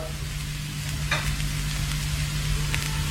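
Star anise and cinnamon spices stir-fry in hot oil, a steady loud sizzle with a low hum beneath and brief scraping of the utensil.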